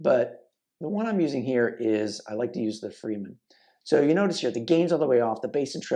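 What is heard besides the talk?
No everyday noise stands out behind the speech.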